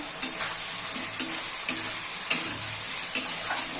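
Spice paste sautéing in a pan for a Bengali fish-head and potato curry, a low steady sizzle broken by five evenly spaced sharp clicks of a spatula being stirred against the pan.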